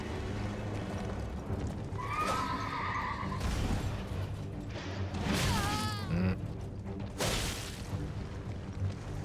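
Horse in the game Elden Ring whinnying and neighing repeatedly in loud, drawn-out calls over a busy background of game sounds and hoof noise.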